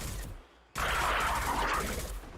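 A concussive shot fires in Mass Effect 2 as a sharp, loud blast that cuts in abruptly after a brief lull and sustains as a dense, crackling burst of noise for over a second before easing off.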